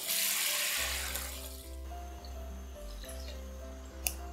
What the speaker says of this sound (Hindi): और इसमें 2 गिलास पानी ऐड कर देंगे